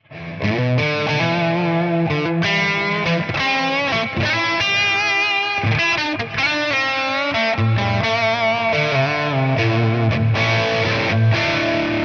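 Distorted electric guitar played through a reverb with long pre-delay, chords and single notes ringing loud and close with a wide wash trailing behind each attack, no voices over it.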